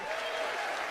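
ESPYs crowd applauding Brittany Hicks, the four-time WNBA All-Star: a brief, steady wash of clapping from a large audience, moderately distant.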